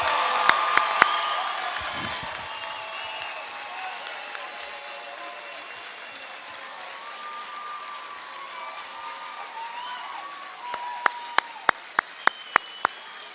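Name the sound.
graduation ceremony audience applause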